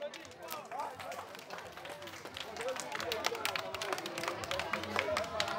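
A crowd at a strength contest in Côte d'Ivoire claps and cheers outdoors, dense, rising applause with shouts and voices mixed through it.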